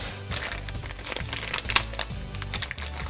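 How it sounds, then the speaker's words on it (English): Play-Doh packaging opened by hand, taped plastic wrapping crinkling and crackling up close in a continuous stream of small rustles and snaps. "I'm gonna open the Play-Doh first."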